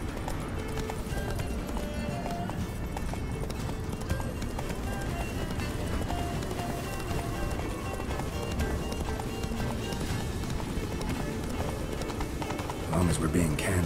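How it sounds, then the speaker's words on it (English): Roach, Geralt's horse in The Witcher 3, gallops with a steady, continuous clip-clop of hooves throughout, carried alongside game music and ambience, ending in a brief burst of louder activity. "Run, Roach."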